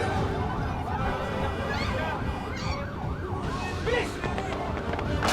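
Ambulance siren wailing loudly and continuously, its pitch sweeping up and down, over busy traffic and agitated shouting voices during an emergency scene.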